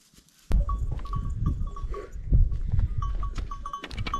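A herd of goats out grazing in the evening, with repeated bleats and ringing bells sounding close, over a steady shuffling rustle of the animals moving.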